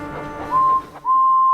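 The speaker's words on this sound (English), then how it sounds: "she whistled loudly" A steam engine whistle from a Thomas & Friends toy train story, heard as two sustained shrill toots, the second longer, close and loud after a brief murmur of background sound.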